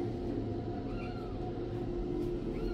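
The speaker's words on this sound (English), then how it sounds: "So this is the first kitten" A kitten at an animal rescue shelter gives faint, thin meows over a steady hum of room noise.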